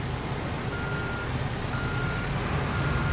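In the Construction Simulator 3 video game, a gravel truck's reversing alarm beeps faintly and repeatedly over a loud, steady rumble of the truck's engine.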